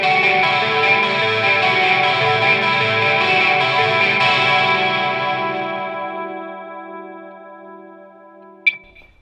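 An electric guitar chord played through drive, chorus and delay pedals swells with distorted, shimmering sustain, then fades over several seconds before a short sharp pick or string noise near the end, no voices present.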